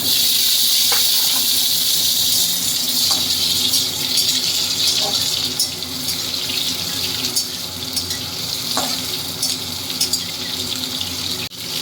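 Raw green mango frying in hot oil with black mustard seeds for Bengali tok dal, a steady close sizzling hiss running throughout with occasional small pops.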